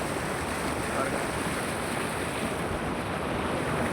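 Water rushes fast over the spillway of a rain-fed village tank, a constant broad roar heard close by with some wind buffeting the microphone.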